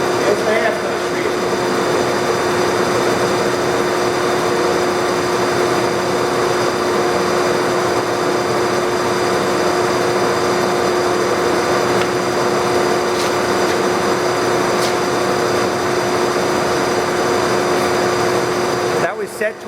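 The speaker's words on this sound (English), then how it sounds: "But it's a good running lathe. We're running at a higher speed for you." A Monarch Dyna-Shift heavy duty 48 x 108 inch lathe runs at a higher speed, giving a loud, steady mechanical hum with a constant whine that stays even throughout.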